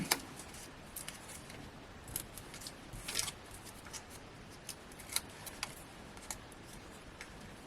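Scissors cut through thin 1mm craft foam pads with a series of soft, close snips and small clicks in an irregular rhythm, quiet against a faint background hiss.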